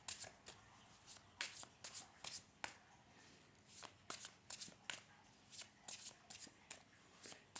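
Tarot cards are shuffled near the microphone in repeated crisp riffles and slaps with an uneven rhythm, fairly quiet and with no talking.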